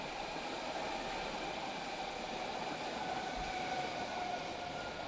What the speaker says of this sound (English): I love the sound of trains.